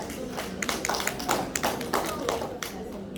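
An audience at a Korean sales-persuasion class claps when asked for a big round of applause before a product lecture, producing scattered, moderately quiet claps with a voice audible over them.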